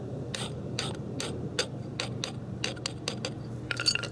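Metal filing deburrs the thread edges on a Dana 44 axle in a truck reassembly, giving a steady series of short, sharp rasping scrapes in a quiet shop with a low hum behind them.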